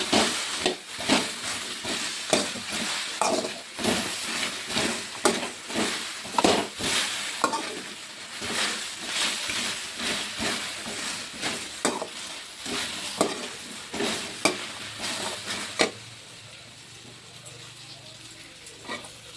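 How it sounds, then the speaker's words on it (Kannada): Okra is dry-roasted in a pan without oil for a village-style okra gojju. Rhythmic scraping and stirring with a soft crackle runs throughout, then quiets to a faint hiss near the end. "ಎಣ್ಣೆ ಹಾಕ್ದಿರ ಹುರ್ಕೊಬೇಕು ಮೊದಲಿಗೆ"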